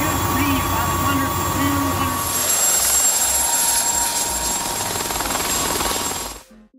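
A Composite FX kit helicopter flies past, its rotor and engine whine loud and steady under a voice before the sound cuts off abruptly near the end.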